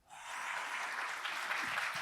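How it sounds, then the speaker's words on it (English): A conference audience at MongoDB World 2022 breaks into applause as speakers take the stage, a dense, steady clapping that swells quickly and holds for a couple of seconds. "And the crowd goes wild"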